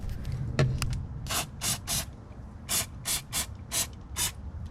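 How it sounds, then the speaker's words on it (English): Short aerosol bursts of BG throttle body and intake cleaner sprayed into the intake of a 2007 Chevy Silverado 4.3L, with about eight distinct hissing spurts in an irregular rhythm, close and fairly loud. "I'm gonna hit it with a little throttle body and intake cleaner from BG"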